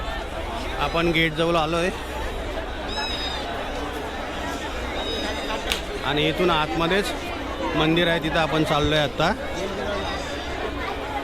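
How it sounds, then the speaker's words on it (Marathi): Crowd chattering near the gate of the temple at the Mhasa fair in Maharashtra on its busy last Sunday, a thick, steady babble of many voices with scattered shouts and someone speaking close over it. "गर्दी बघा तुम्ही, किती गर्दी आहे मंदिराजवळ जायला."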